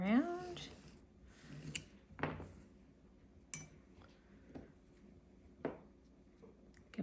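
Trimming around a pressed Easter egg shape after the egg press is used: a handful of sharp, sparse clicks and cuts spaced a second or so apart, with a brief voice at the very start.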